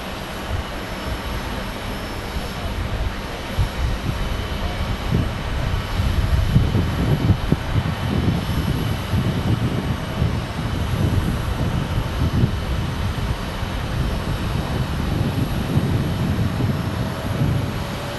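SkyWest airliner at Phoenix Sky Harbor airport, a steady broad jet roar that swells slightly midway and holds loud and close for the whole stretch, with no voices over it.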